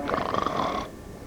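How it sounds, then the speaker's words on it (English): A single heavy snore from a sleeper with obstructive sleep apnea sounds as a rough, rattling inhalation lasting under a second, close and fairly loud, before fading into quiet. "Heavy snoring is a direct result of obstructive sleep apnea."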